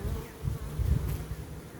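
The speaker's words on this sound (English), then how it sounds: "There's a ball of bees hanging out on the wood." A swarm of honey bees clustered in a ball on wood hums steadily up close, a dense continuous buzz with no voices.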